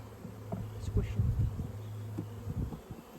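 Steady electronic warning beeps from a crop sprayer repeat in bursts, with a persistent machine hum underneath and people talking loudly over it.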